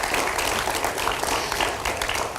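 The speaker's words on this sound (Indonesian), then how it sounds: "Ya, kita berikan tepuk tangan Bapak Ibu sekalian." A large audience at a special televised program breaking into sustained applause, a loud, dense, even roar of clapping filling the whole stretch.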